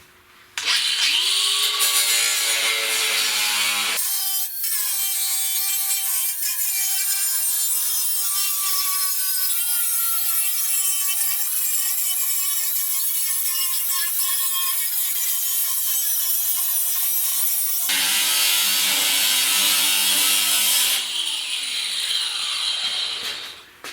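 A cutoff wheel grinds through the front bumper of a project 4x4 Pontiac, a loud, sustained high-pitched whine with a short spin-up at the start and wind-down near the end, then a second burst.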